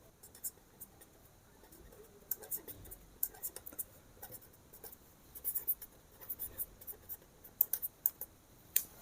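Pen writing on paper while working a Class 7 math perimeter problem, soft scratchy strokes in irregular bursts up close, with faint quiet breathing or murmuring.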